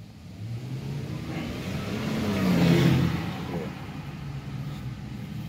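Toyota Sequoia engine running as it drives, a low steady hum that swells to a moderate rev near the middle and settles again, heard from inside without talk.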